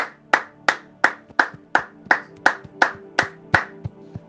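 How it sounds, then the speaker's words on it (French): Congregation clapping hands at a church worship service, a dozen sharp, evenly spaced claps in a steady rhythm, close and loud, with a faint sustained musical tone underneath and no talk. "Can you put our hands together for the glory of God?"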